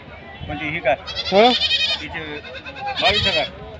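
Goats at a busy goat market bleat loudly in several wavering, nasal calls, one near and strong, others following, over steady crowd chatter and someone talking nearby.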